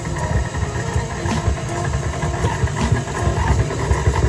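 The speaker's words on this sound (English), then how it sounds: "this is all going to go onto the stand mix, which I've got fitted with a paddle attachment, and I'm going to mix this on a medium speed" A stand mixer fitted with a paddle attachment churns red velvet cupcake batter at medium speed, a steady motor hum with rhythmic thumping from the paddle, heard alone and close.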